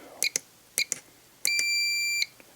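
A Spektrum DX5e radio transmitter gives a few short electronic trim beeps followed by one long steady beep at the center position, clear and close.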